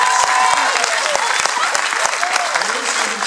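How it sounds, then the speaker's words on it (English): A church audience gives a round of applause, dense steady clapping from a crowd filling the whole moment, with a few voices mixed in. "I want you to give Maurice a round of applause"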